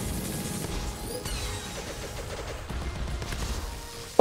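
Rapid bursts of gunfire from the video game CrossCode crackle over a busy, layered game soundscape, with a sharp loud hit right at the end.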